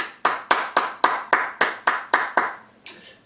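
A church congregation at a Sunday worship service celebrating its 41st anniversary clapping together in a steady, evenly spaced rhythm of about ten loud, crisp claps, the last one softer, with no talking over them.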